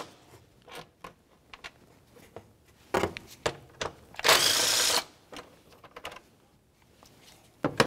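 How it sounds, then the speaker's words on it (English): A 10 mm ratchet or small power driver backs out the bolts on a 2004-2015 Nissan Titan top cover, with scattered clicks and taps and one loud buzzing burst of about a second in the middle. "we'll use a 10 millimeter and remove both of our bolts"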